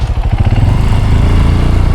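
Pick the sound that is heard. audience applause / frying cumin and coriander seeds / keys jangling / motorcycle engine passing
motorcycle engine passing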